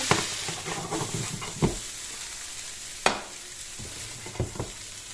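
Sausage meat frying in a pan, browned and being turned: a continuous close sizzle broken by several scraping stirs and clanks of the utensil against the pan.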